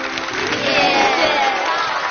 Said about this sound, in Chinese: 把掌声送给杨盼哥哥吧